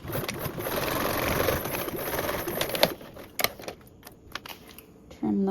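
A sewing machine runs a seam at a 3/8 seam allowance, a steady fast mechanical whir for about three seconds, then it stops and a few clicks and taps follow; a voice speaks over it.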